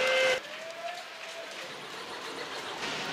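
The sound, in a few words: referee whistle ending the first half of a handball match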